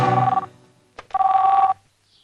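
A telephone rings in a dubbed action movie scene, two loud electronic ring bursts separated by a short pause, heard alone and close.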